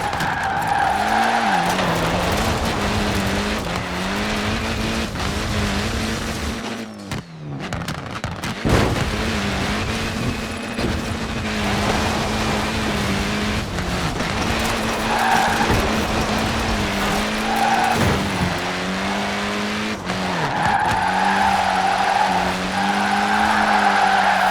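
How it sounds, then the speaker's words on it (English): Forza Horizon 4 car drifting with sustained, loud tire squeal over a steady revving engine, briefly cutting out mid-slide before the screeching resumes alongside engine tones. "Forget all my explanations of drifting, just watch this."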